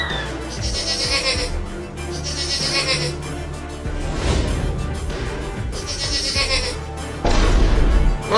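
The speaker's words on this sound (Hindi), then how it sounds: "अरे वो बकरी का बच्चा मेरे खेत में आ रहा है मेरा लालमी खाने" A young goat bleats in repeated calls over a steady background bed, fairly close and loud, with a cartoon-like field setting; brief voices and noises mix in near the end.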